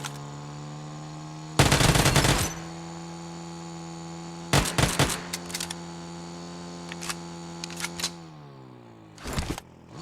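Uzi or UMP gunfire in a Transformers mod video game: several short, rapid bursts of automatic fire over a constant electronic hum, with quieter single shots between them.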